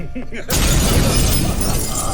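In The Witcher 3, a mirror shatters in one sudden, loud burst of breaking glass. The crash follows a brief stretch of talk and leaves a dense, sustained crackling wash behind it.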